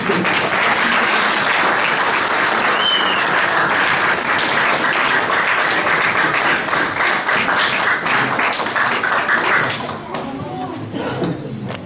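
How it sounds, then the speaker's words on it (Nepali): A church youth fellowship audience gives loud, sustained applause for the pastor, dense clapping that fills the room close by before tapering slightly near the end. "फेरि अर्को जोरदार ताली उहाँलाई दिउँ"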